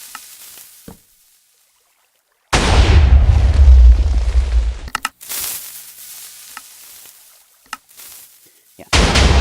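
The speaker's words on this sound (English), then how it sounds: "this is my automatically reloading cannon in all its glory" TNT cannon explosions in Minecraft from a fully automatic, self-reloading cannon: loud booming blasts with crackling, sizzling tails, separated by short gaps of near silence.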